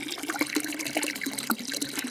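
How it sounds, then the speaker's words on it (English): Water falling from a newly installed filter system into a Japanese garden pond, a steady close splashing trickle with irregular droplet plops, alone and fairly quiet. "you get the sound of falling water as well, which is quite nice"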